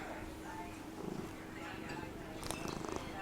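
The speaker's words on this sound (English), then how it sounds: "purring cat is a good companion" A cat purrs softly and steadily close by, a low continuous rumble running under quiet role-play talk with some soft handling noises.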